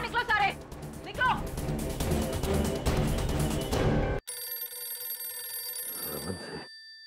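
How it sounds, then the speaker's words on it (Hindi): Loud busy sound in a crowded room gives way abruptly to an electronic ringtone from a speakerphone that rings for a couple of seconds before stopping. "उठाओ स्पीकर फोन।"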